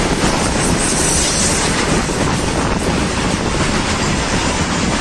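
A train rolling past, a loud steady rushing rumble with faint rhythmic clatter and wind buffeting the microphone, continuous for several seconds with no speech.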